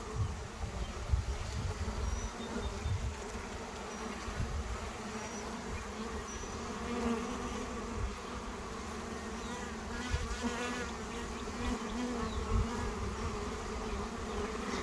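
A honeybee swarm buzzes densely and continuously around a Russian scion swarm catcher, a close, steady drone of many bees with individual insects passing near.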